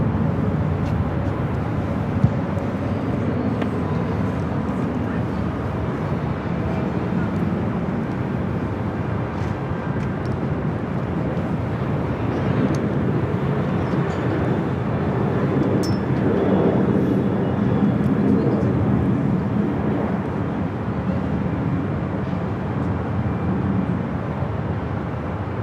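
A British Airways airliner, likely an A380, at LAX airport, heard as a steady, broad engine roar that swells and holds loud for the whole stretch, with no talk.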